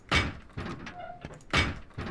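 Sheet metal doors are placed while building a base in the Rust video game, with two loud metallic thuds and several softer knocks in an irregular sequence, close by and without talk.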